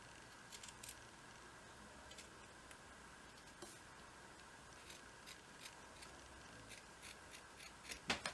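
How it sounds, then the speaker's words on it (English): Scissors snipping through a yellow cotton sock just below the heel, a run of faint, crisp clicks and short cutting strokes at an uneven pace, quiet and close, ending with a few louder snips. "take the yellow sock and put it out flat, and then cut right before the heel"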